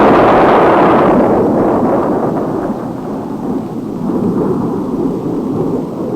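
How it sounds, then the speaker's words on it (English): Napalm bomb explosion from an F-104 airstrike: a loud, deep roaring blast that starts at full force and rumbles on as a sustained, slowly fading low roar, with no voices. "Napalm, a part of the 104 weapon inventory, is used against enemy concentrations and similar targets."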